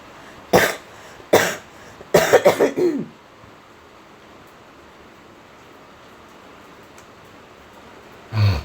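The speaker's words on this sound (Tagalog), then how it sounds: "Grabe ang akong ubo mga palangga" Several harsh coughs close to the microphone, two single ones followed by a quick burst of three or four, then quiet and a low breath at the end.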